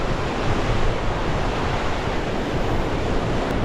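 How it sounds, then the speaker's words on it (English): Strong onshore wind and ocean surf pound a beach at Cayo Cruz, Cuba, a loud, dense, unbroken roar of crashing waves and wind buffeting the microphone, with no voices. "the vicious winds coming off the ocean"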